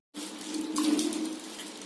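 Water runs steadily into a bowl as wheatgrass is washed, a continuous close gushing, splashing wash with no talking.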